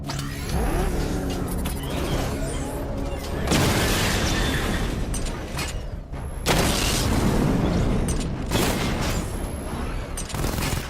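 Missile barrage explosions in Batman Arkham Knight, several heavy booming bursts crashing in over rumbling vehicle noise, loud and dense, with a synthetic voice running beneath.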